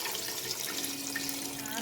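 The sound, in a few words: water being poured into a pot for chicken mandi rice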